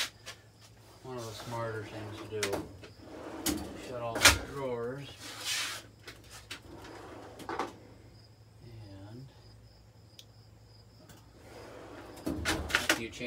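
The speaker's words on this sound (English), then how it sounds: "Shut all the drawers." Workshop drawers slam shut in a few sharp, knocking bangs spread across the stretch, mixed in with someone talking nearby.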